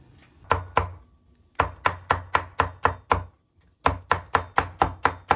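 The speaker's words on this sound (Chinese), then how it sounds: "我切菜就好洗" A knife chops vegetables on a cutting board in a steady, close rhythm: two chops, a pause, then two quick runs of about eight sharp strokes each, with no talking.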